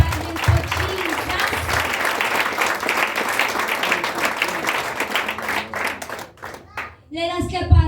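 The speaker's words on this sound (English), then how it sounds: "Let us clap our hands for this wonderful testimony." A church congregation claps together in sustained applause, dense and steady for several seconds before thinning out, with a few voices and a short spoken phrase surfacing near the end.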